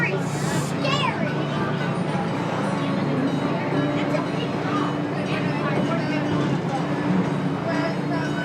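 The Busch Gardens Williamsburg Railway train rolls along with a constant, even rumble and clatter while a voice makes an announcement over it.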